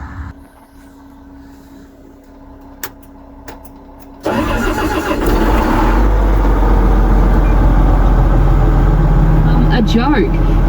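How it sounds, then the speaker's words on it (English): After a quiet idle hum, a tractor's engine cranks and roars to life, then settles into a loud, steady diesel rumble close by. "Just gonna start the tractor so it can warm up a bit before start loading."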